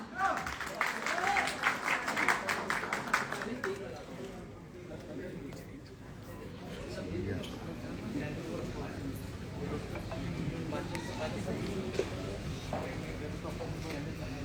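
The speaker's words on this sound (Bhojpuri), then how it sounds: "जोरदार तालियां हो जाएं इस" Audience applause at a live birthday party celebration for a Bhojpuri star, starting as crowd clapping and then mixing with music and voices in a noisy hall at moderate distance.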